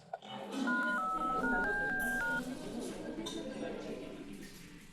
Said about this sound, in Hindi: रुक, अंकल को फोन करता हूं।